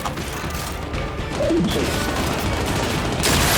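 A frag grenade explodes in the Gears 5 video game, a loud crashing burst that steps up partway through and holds a dense, sustained roar before a brighter surge near the end.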